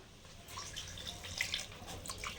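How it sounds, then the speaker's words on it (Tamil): Water running from a tap and splashing into a pot while cooking surakkai sambar with dal, a steady moderate trickle with small drips and splashes, close by and alone. "இப்போ தண்ணி ஊற்றிக்கலாம்"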